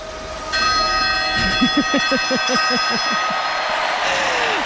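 At the Paris 2024 Olympics, the men's 400-metre hurdles champion rings the stadium bell: about a dozen quick, clanging strikes in a steady run, heard over a broad hum of crowd noise.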